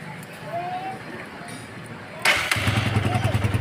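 A Honda CB 125F motorcycle fitted with a DC CDI unit, in a workshop, fires up midway after a thud and settles into a close, steady, rhythmic idle; light talk can be heard before it starts.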